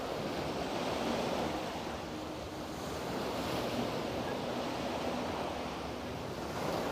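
Ocean waves at Koh Tao wash in a continuous surging roar with slow swells in loudness, mixed with wind buffeting the microphone.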